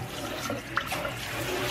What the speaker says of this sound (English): I'm gonna give it one more rinse with just hot water.